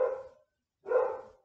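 Two loud barks from a dog indoors, about a second apart with a short silence between, sounding close and standing alone without talk.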